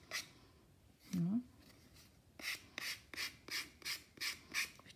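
Wooden craft tag edges and corners being filed and sanded by hand, a soft rasping stroke repeated in a steady rhythm of about eight close scrapes, quiet and alone after one brief sound.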